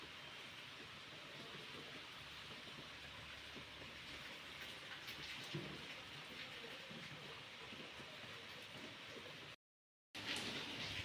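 Steady rain hisses continuously, a dense even wash of noise with no voices, briefly cutting out near the end.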